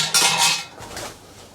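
Stainless steel scrap pulled from a 5 kW solar inverter being handled, giving a short burst of bright metallic clinks and rattles, loud at first and then settling into lighter scraping.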